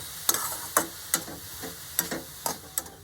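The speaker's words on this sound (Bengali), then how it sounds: "আদা আর কাঁচা লঙ্কাটা দিয়ে আমি খুব ভালোভাবে নেড়ে নিয়েছি" Fried beetroot and carrot with ginger and green chilli are stirred in a pan, a series of distinct sharp scraping taps roughly every half second over a soft sizzle.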